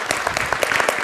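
A lecture audience in Lucerne claps together in a dense, steady burst of applause that lasts about a second, with no voices over it.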